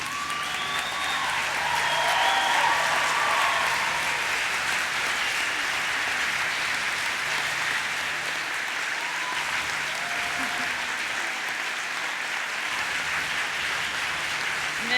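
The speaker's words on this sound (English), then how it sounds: "you give a big round of applause to all those people who've been there for you all along" Sustained, even applause rolls on steadily at full strength from a large graduation audience honouring supporters at a health sciences ceremony, with a faint crowd murmur underneath.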